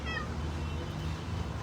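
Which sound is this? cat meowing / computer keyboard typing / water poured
cat meowing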